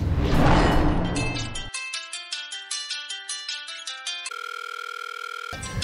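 A telephone rings for an incoming call, with rhythmic electronic ring bursts repeating steadily after a loud noisy opening, followed by a sustained tone, heard alone without talk.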